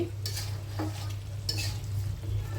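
Duck meat stir-fried down to a dry braise in a pan, a soft sizzle under a low hum, broken by a few brief spatula scrapes and stirs, close with no voices.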